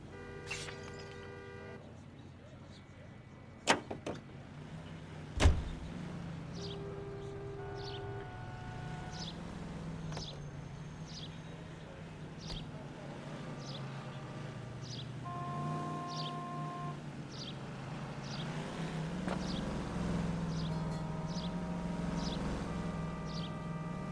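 A car driven through city streets in the 1940s Los Angeles game L.A. Noire hums along at low volume, with a steady engine drone, a couple of sharp knocks and faint ambient traffic and bird chirps.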